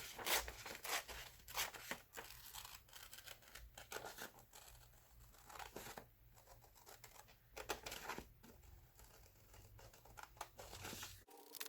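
Scissors cutting a picture out of a magazine page, giving quiet, close snips and papery crinkles in an irregular stream with brief pauses, alone without talk.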